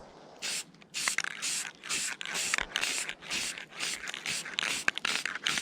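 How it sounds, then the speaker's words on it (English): Repeated bursts of clear enamel aerosol spray from a can onto fishing lures, short hissing blasts in quick succession with brief gaps, close and fairly loud. "Always wear protection and spray."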